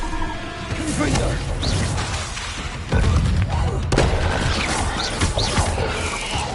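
Confringo explosive spell cast in Hogwarts Legacy on PS5, heard as dense, loud crashing bursts and impacts amid battle noise, with a strong hit near the midpoint.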